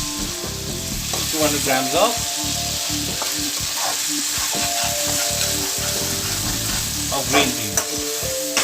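Ground beef and green peas sauté in a pan, a steady sizzle broken by repeated scraping and stirring strokes, with louder clanks near the end. A voice speaks briefly at the start.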